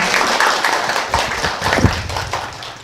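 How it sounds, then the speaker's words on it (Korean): An audience at the 2024 entrance ceremony of Dongguk University's Graduate School of Buddhist Studies applauds to welcome the dean, a dense, steady wash of many hands clapping at once, fairly loud, with a few heavier thuds and no voices. "원장님을 큰 박수로 모시겠습니다"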